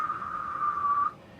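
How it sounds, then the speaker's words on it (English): A person whistles one steady, pure tone that holds for about a second and then stops, leaving quiet room noise. "If I were to whistle,"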